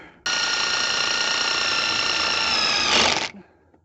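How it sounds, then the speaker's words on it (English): A power drill boring a long hole into a wooden backyard gate, one loud, steady, high whine held close for about three seconds before it winds down and stops. "I'm going to drill 2 long holes into here and then connect it with this super long screw"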